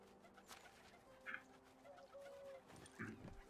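A chicken in the game Medieval Dynasty clucks quietly in short, scattered bursts over a faint ambient background, with no talking.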